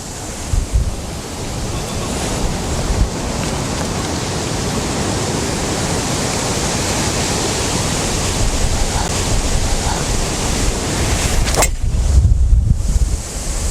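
Steady, loud wind buffets the microphone on a golf green with a broad rushing roar that swells slightly toward the end.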